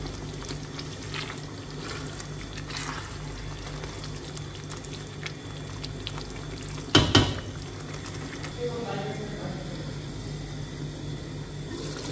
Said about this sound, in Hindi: अच्छे से भुन जाए तो चिकन और मसाला को अच्छे से भुनना है